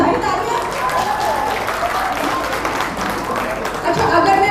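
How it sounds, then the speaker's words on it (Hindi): Audience clapping at a school annual day celebration, a dense, continuous wash of many hands across the hall, steady and fairly loud throughout with slight swells near the end. "तो एक बार अपने लिए भी बजा दीजिए भाई तालियां।"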